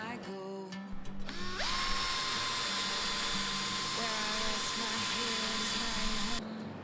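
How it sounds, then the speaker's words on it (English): A power drill bores holes into a boat deck, whining loudly and steadily at high pitch for several seconds after a short start-up, then cutting out abruptly near the end. "gonna drill some more holes in the deck."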